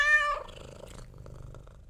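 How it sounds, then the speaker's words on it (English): A cat in the horror video game The Kidnap mews with a short, bright harmonic call at the start, then settles into a soft, rumbling purr that stays low and steady to the end. "Cat!"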